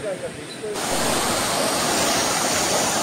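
Savatkada waterfall at Rajapur, a river plunging over a drop, roars as a steady, loud broadband rush after a quieter opening moment with faint background sounds.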